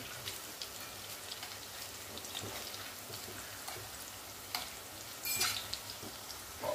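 Kothimbir vadi, coriander fritters, frying in hot oil, a steady soft crackle and hiss throughout with a brief louder sputter near the end, heard up close and quiet, without speech.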